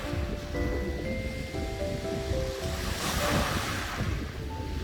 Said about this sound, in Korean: 파도에 밀려 옥돌 구르는 소리가 상큼합니다